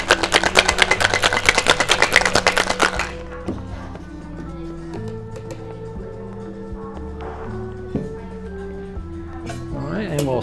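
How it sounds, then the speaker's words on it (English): A cocktail shaker holding ice and egg white for a Veranico is shaken hard, a fast, loud rattling for about three seconds, and then a person talks over quiet background music. "And give it another shake to chill."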